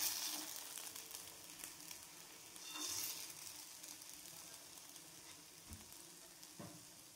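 Mixed-lentil dosa batter sizzles on a hot pan with a steady crackling hiss that swells briefly near the middle, then settles into a quieter, even fry with a few soft clicks. No voices.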